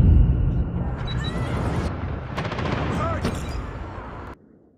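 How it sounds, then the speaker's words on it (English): An enemy airstrike in the shooter game Pay 2 Win Simulator pounds the area: heavy rumbling explosions overlap with rapid crackling gunfire for several seconds, loud and close, then cut off abruptly. "Enemy airstrike incoming."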